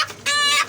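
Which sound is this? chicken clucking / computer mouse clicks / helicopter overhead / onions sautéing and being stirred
chicken clucking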